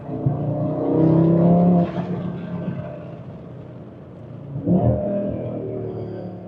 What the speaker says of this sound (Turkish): Egzoz sesi nasıl oluyor? Evet bayağı fark var.